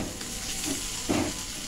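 Carrots and spices frying in a pan on a gas flame turned low, a steady sizzle with a couple of brief stirring scrapes, close and alone.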